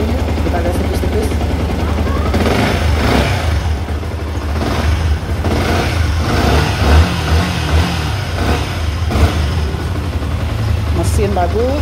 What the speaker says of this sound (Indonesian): Suara mesin juga masih bagus, halus.